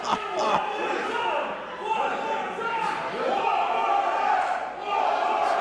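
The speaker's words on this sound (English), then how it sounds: "This crowd wants it again." A pro wrestling crowd roars and cheers after a steel chair shot, a sustained loud mass of voices with sharp shouts and a thud near the start, while a commentator speaks over it.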